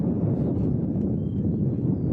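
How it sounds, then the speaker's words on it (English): Strong wind buffets a microphone outdoors at Manchester Airport, a steady broadband roar that holds loud and unbroken throughout with no talk. "it is pretty darn windy, folks"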